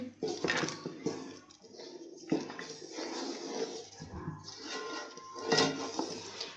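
A spoon stirs cardamom powder into rice kheer in a pot, with wet scraping and clinks against the metal in irregular strokes, close and moderately loud throughout.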